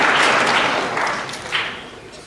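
Audience applause at an evening satsang in Ahmedabad, a dense wash of many hands clapping together, loud at the start and then tapering off across two seconds with no talk over it.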